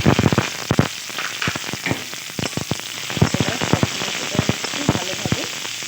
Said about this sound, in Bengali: হালকা ব্রাউন করে আমি ভেজে নেব পেঁয়াজ আর রসুনগুলো